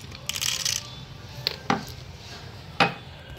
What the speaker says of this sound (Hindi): अभी हम डालेंगे वाइट कलर्स के पर्ल्स।